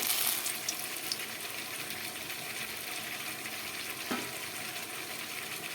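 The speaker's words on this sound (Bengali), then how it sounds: "তেলটা গরম হয়ে গেল এখন তেজপাতা দিয়ে দেবো" Bay leaves frying in hot oil in a home kitchen, giving a steady, soft sizzling hiss throughout with a brief louder crackle near the end and no talking.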